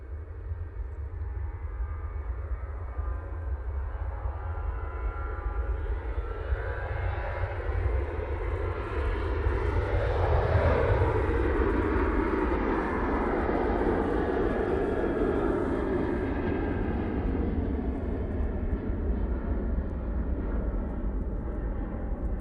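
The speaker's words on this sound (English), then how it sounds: "That's off to Turin using 737-800" A TUI Boeing 737-800 departs Manchester Airport for Turin, its jet roar rising to a loud peak with a sweeping pass around the midpoint, then fading gradually into a lingering distant rumble, with no voices.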